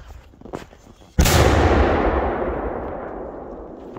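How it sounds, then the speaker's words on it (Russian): A single loud, sharp blast from a New Year quadrobum firecracker close by, followed by a long rumbling echo that slowly fades. "Это очень опасные взрывы."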